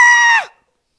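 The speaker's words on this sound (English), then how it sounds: "But then we were overwhelmed by the deafening scream of the banshee." A banshee's deafening scream: a loud, shrill, harmonic wail that holds steady, then sags in pitch and cuts off abruptly, followed by silence.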